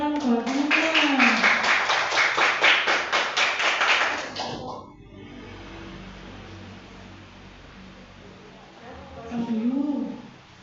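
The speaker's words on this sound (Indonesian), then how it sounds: "Kasih tepuk tangan buat teman-teman" A small group claps for friends in a steady, rhythmic burst of about four seconds, close and fairly loud, then the room falls quiet until a voice speaks near the end.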